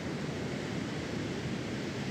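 Ocean waves rolling onto a Costa Rican beach at Camaronal wildlife refuge in Guanacaste at night, a steady, close, continuous broadband wash of surf with no distinct breaks or voices.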